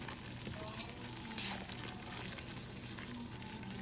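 Flour and butter cook in a pan for turkey gravy, making a soft, continuous low sizzle with faint stirring, quiet and steady throughout with no voices.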